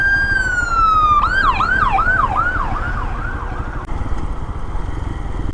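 A loud sheriff's car siren glides down, then wails in fast repeating yelps before fading, with road and engine noise steady underneath.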